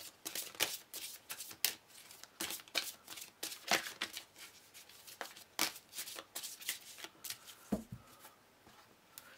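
Deck of tarot cards being shuffled by hand, a quick series of crisp riffling and sliding bursts close up, repeating irregularly throughout, with brief pauses between bursts.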